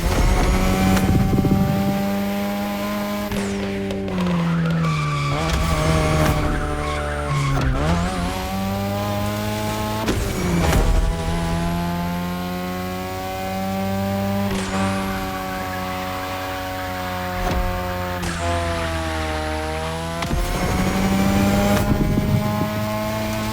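Racing cars in The Crew Motorfest roar continuously at high revs, engine pitch rising and dropping through gear shifts, with tire squeal from drifting sliding across the sustained engine note and no talking.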